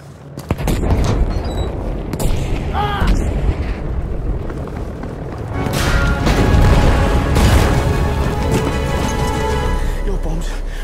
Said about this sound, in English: that's because my bombs went off